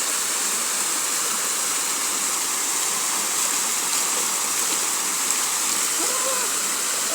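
A flowing river rushes steadily where someone is bathing alone, a dense, continuous wash of moving water that stays loud and close throughout without pause.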